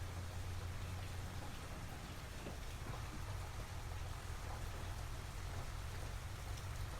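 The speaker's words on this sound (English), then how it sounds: "I do wish it would stop raining though" Steady heavy rain in the farming video game Farming Simulator 25, a dense continuous hiss of downpour with a low rumbling undertone, even and unbroken, with no talking.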